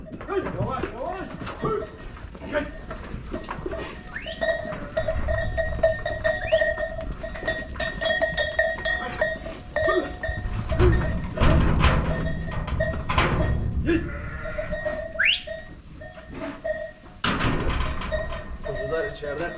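Sheep and lambs bleat in scattered bursts while bells clank intermittently nearby, with people talking and calling throughout.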